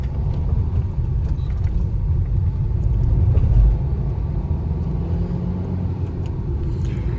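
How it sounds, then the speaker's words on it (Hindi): A Tata Altroz car pulling away in first gear, with a steady low engine and road rumble that holds even throughout and swells slightly near the middle. No one speaks. "अब मैं इसको भाई फर्स्ट गियर पे डालता हूँ, अपन ड्राइव करते हैं"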